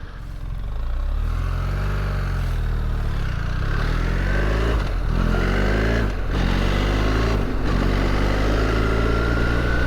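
BMW R1300 GSA adventure motorcycle engine while riding on a cold road, a loud close boxer-twin drone that climbs steadily in pitch through the gears, with brief dips at shifts.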